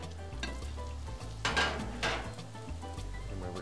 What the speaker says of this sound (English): Now we're gonna proceed to fry our avocado fries.